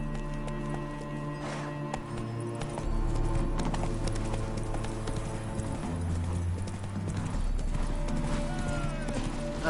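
A horse gallops in The Witcher 3: Wild Hunt, its hooves clip-clopping in a steady rhythm under a continuous game music bed, with a brief whinny.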